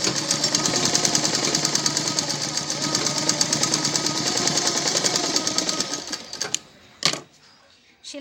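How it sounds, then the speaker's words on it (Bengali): A sewing machine stitches around a round neckline in one steady, close, rapid run for about six seconds, then stops, leaving a few faint knocks and handling sounds. "এই রাউন্ডটা আমি পুরো সেলাই করব।"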